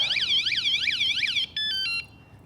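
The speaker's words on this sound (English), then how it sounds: "the alarm goes off." Anti-theft alarm on a RadRover electric bike going off loudly and close, a rapidly sweeping siren-like whoop repeating several times, then switching to steady electronic beeping tones.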